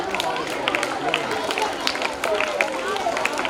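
An audience at a school awards ceremony claps for a student, producing a continuous patter of scattered hand claps at moderate level with faint background murmur.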